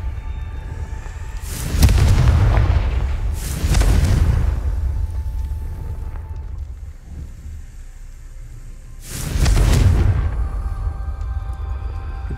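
Three deep, booming blasts from the Confringo spell in Hogwarts Legacy, spaced several seconds apart and ringing out over a low, rumbling ambient background.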